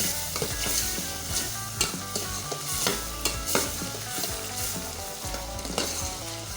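Aloo gobi masala of potato, cauliflower and softening tomatoes stirred in a hot pan, with constant loud sizzling and frying broken by repeated scraping spoon strokes, and no talk.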